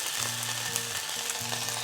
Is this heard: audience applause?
no